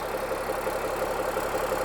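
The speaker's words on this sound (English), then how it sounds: "So I'm just going to let it idle for a while now, let that oil get warmed up" A Cummins diesel engine fitted in a Land Rover 130 idles at a steady, even rumble, close and continuous with no talk over it.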